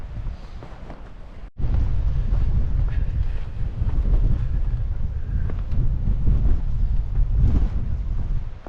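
Wind buffets the microphone on an exposed hiking trail, with a quieter stretch at first, then a sharp jump to a loud, steady, roaring rush that continues to the end.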